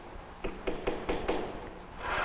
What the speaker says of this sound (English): the dull tap, tap of tools on leather